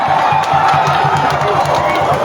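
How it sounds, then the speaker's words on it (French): A large outdoor crowd at a presidential address in Makokou, Gabon, cheers and applauds a champion, a loud, dense roar of voices with rhythmic pulses running through it. "Maximum d'applaudissements pour le champion qui va être honoré également par le président de la transition"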